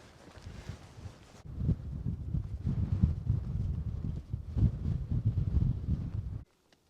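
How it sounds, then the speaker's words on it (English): Strong wind buffets the microphone on the summit of Roseberry Topping in the North York Moors, a loud, gusty low rumble that swells and fades over several seconds and then cuts off abruptly. "and it is really windy"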